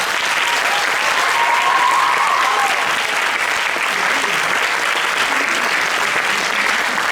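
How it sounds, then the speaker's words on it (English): An audience at the end of a school's year-end musical show applauds continuously, a thick, even wash of clapping that holds at one loud level from start to finish. "Final round of applause."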